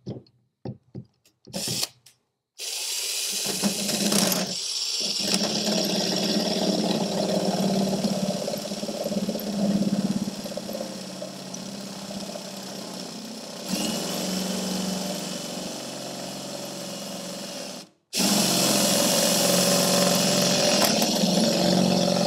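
A power drill with a drill bit bores through an arcade cabinet during a Sega Pengo restoration. Loud continuous whirring grinds on for long stretches, broken by a few short stops and restarts.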